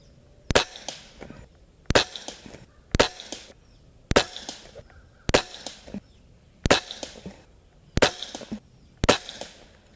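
Eight sharp shots from an Umarex Walther Reign .22 caliber bullpup airgun, close and loud, each a crisp crack followed by a short rattle, fired at a steady pace about every second and a quarter.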